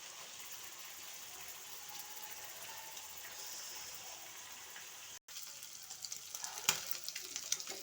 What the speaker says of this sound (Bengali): এটা দিয়ে একদম পুরোটাই ভাজা ভাজা করব